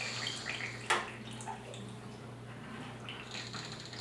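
Water drains from an old valve under a bathroom vanity, a soft trickling and gurgling with one brief knock, faint and close in a quiet room.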